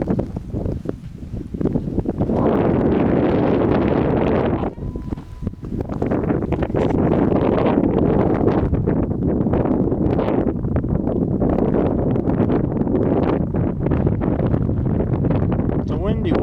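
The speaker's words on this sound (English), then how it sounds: "It's a windy one. It's windy." Strong wind at the Grand Canyon buffets the microphone in loud, continuous roaring gusts, with a brief lull partway through.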